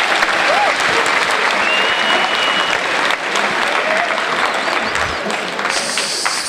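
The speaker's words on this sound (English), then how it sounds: "a round of applause" A high school audience in a Bullard, Texas gym applauds a guest speaker, a steady, dense wash of clapping that stays loud and unbroken for several seconds, with a few cheers mixed in.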